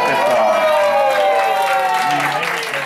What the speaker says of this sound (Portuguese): Uma salva de palmas pra nossa homenageada, pessoal.